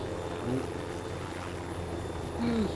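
Helicopter in Arma III spinning up for takeoff, a steady low rotor and engine drone that holds faint and even throughout, with brief rising tonal whines near the start and end.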